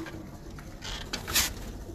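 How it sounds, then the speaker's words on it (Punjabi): A Salara breed pigeon coos softly nearby in a loft, a few low rolling coos over a faint background hiss with a brief rustle. "ਇਹ ਦੇਖੋ ਇਹ ਸਲਾਰਾ ਕਬੂਤਰ"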